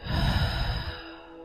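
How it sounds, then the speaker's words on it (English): A single slow, deep breath during a restorative yoga and meditation session, a soft airy exhale fading out, close and quiet with no talk. "Take a deep breath in and deep breath out."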